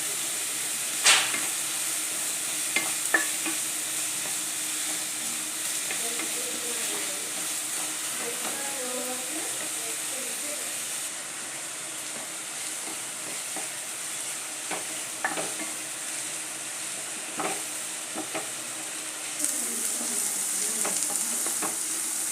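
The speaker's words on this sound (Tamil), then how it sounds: "இது போல் நல்லா வெங்காயத்தை வதக்கிக்கிறணும்" Onions sautéing in a pan for an egg stir-fry, a steady bright sizzle running throughout with occasional stirring clicks and scrapes, close and moderately loud, with no voices.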